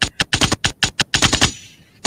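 A rapid burst of sharp gunshot effects crackles in quick succession, about a dozen loud snaps, then a pause and one more shot.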